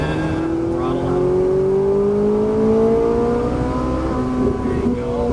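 A Ferrari 458 Italia accelerates out of a turn, its engine note climbing steadily in pitch as it pulls hard, loud and close from inside the car.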